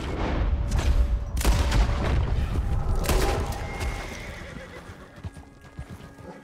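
Horse hooves clip-clop steadily in Red Dead Redemption 2, with a neigh and a sharp boom-like shot partway through, all fairly close and loud.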